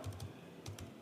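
Several quick key clicks on a computer keyboard while a password is typed in, a short burst of taps in two small clusters, close and fairly quiet with no talking.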